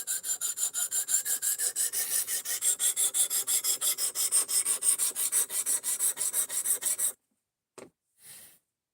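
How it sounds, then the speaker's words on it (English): A knife blade is sharpened by hand with quick, even rasping strokes, about seven seconds of steady back-and-forth scraping at close range, followed by silence and two short final strokes. "we're just sharpening knives that show up on the live stream with it right now"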